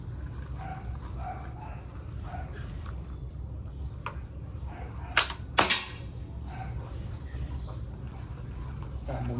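Two sharp CO2 air rifle shots close together, crisp and loud above a steady low background hum, with faint clicks before them.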